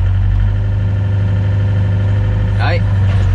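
A 2007 Volvo EC55 excavator engine runs at raised throttle, a steady loud low drone with strong harmonics throughout, close by, with a brief whistling sweep near the end.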